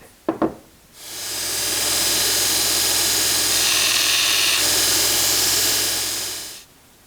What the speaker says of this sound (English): where I want to grind my flat